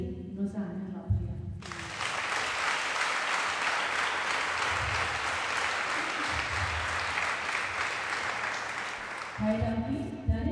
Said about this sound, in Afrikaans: So vir die 11 prefecte wil ek eers sê, ons hande klap gee.